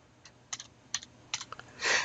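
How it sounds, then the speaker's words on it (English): A computer keyboard is typed on in a few quick clusters of close, light key clicks, ending in a brief louder clatter. "you see I'm typing here"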